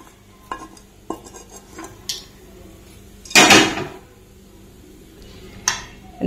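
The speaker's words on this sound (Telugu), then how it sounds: "వేడిగా ఉంది కాబట్టి ఫస్ట్ స్పూన్తో కలిపి కొంచెం చల్లారిన తర్వాత చేతితో నీట్గా మిక్స్ చేసేసుకుందాం." A spoon stirring freshly made hot pickle in a bowl, giving scattered light clinks and scrapes against the bowl and one longer, louder scraping swirl midway, heard up close with no speech.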